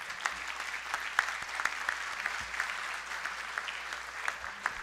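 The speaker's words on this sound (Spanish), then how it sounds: "Un aplauso, por favor, para la unidad Mayay." Audience applause at an award ceremony honoring an underground mining unit, steady clapping across the hall with scattered louder claps, moderately distant and continuous throughout.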